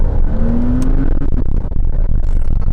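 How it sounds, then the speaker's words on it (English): A 2006 Porsche Cayman S flat-six revving on the throttle, heard from inside the car as a loud, rising engine note with a brief whine, then settling into a rough, throaty drone. "there is that instant flat 6 badass throttle response from right behind you"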